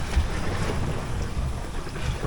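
A sailboat moves through wind and water on a relaxed sail, with constant loud rushing wind buffeting the microphone over washing water, steady throughout and with no voices.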